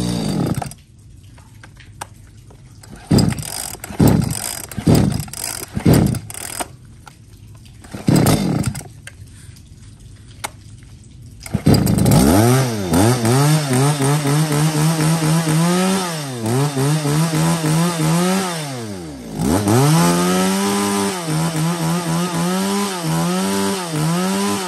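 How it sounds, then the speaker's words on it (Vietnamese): A used Japanese chainsaw starts with several sharp pull-cord yanks and sputters, then catches and runs loudly and close, its engine revving up and down in repeated swells for the rest of the clip with no talk. "bù lại cho anh em một chiếc máy cưa siêu VIP cho anh em"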